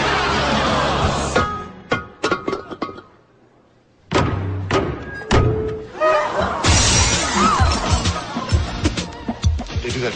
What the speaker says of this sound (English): The maid of honor shatters a vase, and it symbolizes happiness for the bride and groom.